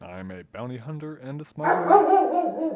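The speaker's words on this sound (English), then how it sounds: "That's a dog. My dog." A dog barks in the background at a home recording session, following a man's speech and partly overlapping it.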